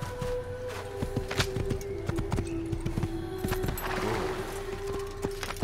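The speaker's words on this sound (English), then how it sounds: "I believe this is our horse." Hooves of a horse clip-clopping in the Assassin's Creed video game, a brisk run of clear hoof strikes at walking pace over a steady tonal hum, with no talk.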